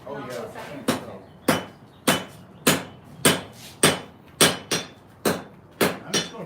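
Hot steel struck by a blacksmith's hammer on an anvil while forging a steel striker, ringing close and loud in about eleven steady blows roughly half a second apart, with some speech faintly beneath.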